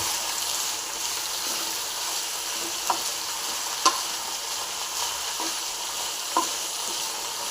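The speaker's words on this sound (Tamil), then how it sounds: "நல்லா ஃப்ரை ஆகிடுங்க நல்லா ஃப்ரை பண்ணிக்கணும்" Pirandai (veld grape) frying in a pan for chutney, a continuous close sizzle with occasional sharp clicks of a spoon stirring against the pan.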